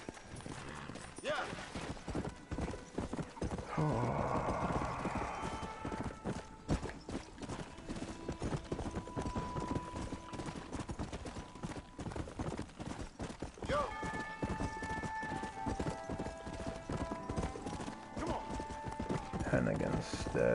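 Horse hooves clip-clop steadily in Red Dead Redemption gameplay, joined by occasional whinnies, with game music and someone talking over much of it.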